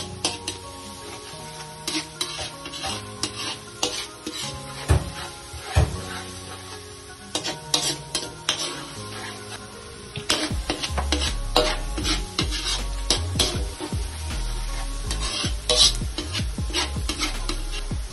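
Garlic and onion sauté in olive oil and butter, sizzling steadily while a utensil stirs and scrapes against the pan in irregular bursts, with background music running underneath.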